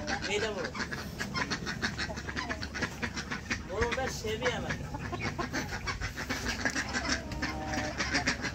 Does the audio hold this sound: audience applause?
no